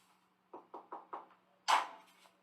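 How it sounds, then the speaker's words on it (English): A fist knocks on a door: four quick, evenly spaced raps, then a louder, sharper thump. The sounds are fairly faint against a quiet room with a low steady hum. "Dom steps outside and knocks on the door himself"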